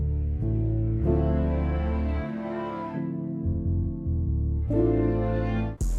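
Rhodes electric piano layered with piano and deep bass in a sample: warm sustained chords shifting roughly every second or two over a heavy low bassline, loud and close with no voices, cut off by a short bright burst near the end.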